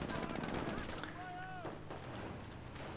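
Gunfire from a sniper and rifles in a multiplayer war video game, a dense mix of distant shots and bursts over game ambience, with a commentator talking over it.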